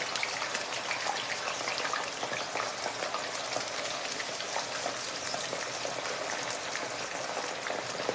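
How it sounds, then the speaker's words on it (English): Steady, dense crackling and sizzling of cut french fries frying in hot oil, continuous and close, with no talking. "I got my french fries cut up. Got to get them fried"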